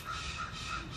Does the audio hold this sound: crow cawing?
yes